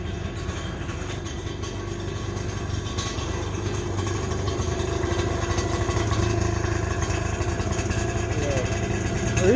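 A small two-stroke engine fitted in a vehicle with an e-brake and gas pedal runs after starting, holding a steady, rough, clattering idle that grows slightly louder toward the end.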